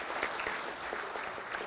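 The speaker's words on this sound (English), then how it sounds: "I think you should give them a little applause" Audience applause at a presentation, a steady wash of many hands clapping with no clear peaks, moderately loud throughout, nearly two seconds long with no voices over it.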